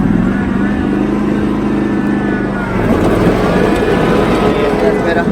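A Canycom Razorback mower engine turning over and catching, then settling into a rough running rumble, loud and close with some talk over it.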